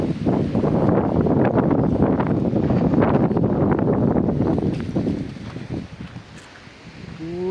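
Strong gusting wind with rain roars loudly and steadily across the microphone for most of the stretch, easing somewhat near the end as a faint voice-like tone appears.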